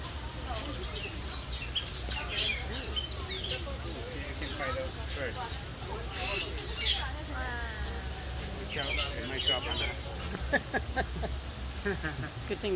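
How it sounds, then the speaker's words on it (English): Birds calling outdoors in Florida, scattered chirps and tweets through the clip, fairly faint behind a steady low background and voices talking. "Oh, there's birds here."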